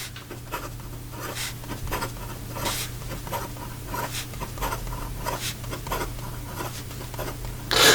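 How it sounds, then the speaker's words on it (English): Visconti Voyager 30 fountain pen writing quickly on paper, a steady close scratchy rustle of nib strokes with short repeated swipes throughout, fairly soft over a low background hum. "And then in regard to some fast writing,"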